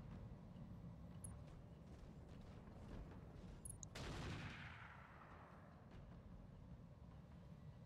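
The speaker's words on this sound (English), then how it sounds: "Buster Hole are shooting at something and missing." Distant mech weapons fire in the RogueTech battle game, with scattered shots and a louder burst or impact partway through, trailing off into a steady rumbling background of battlefield noise.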